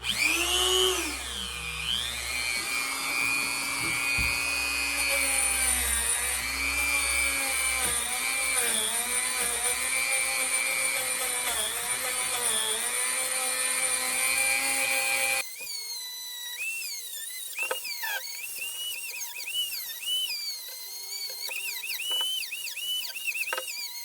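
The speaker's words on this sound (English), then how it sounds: "I picked up a little package, brass brushes for the Dremel tool" Dremel rotary tool spinning brass wire brushes, a steady high whine running alone with shifting pitch as the brush presses and lifts, dropping to a thinner, lighter hum partway through.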